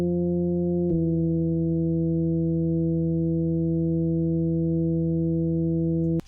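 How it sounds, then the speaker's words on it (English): A synth organ patch built in Serum holds a steady, sustained chord for about six seconds, with a brief break and re-attack near the one-second mark, loud and alone. "The first thing I remade was this organ sound."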